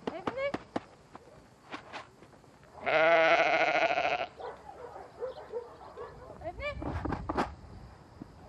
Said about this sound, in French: Des centaines de moutons ont été sauvés des mauvais traitements par la Fondation Brigitte Bardot.